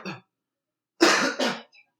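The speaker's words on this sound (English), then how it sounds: "just a little cough right there" One person gives a short cough, then a pair of harsher throat-clearing coughs close to the microphone, with silence between them.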